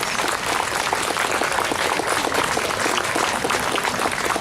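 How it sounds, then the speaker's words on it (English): An outdoor crowd at a Canada 150 grand opening applauds award recipients, producing a continuous, dense and fairly loud round of clapping from start to finish. "Could you please give them a big round of applause?"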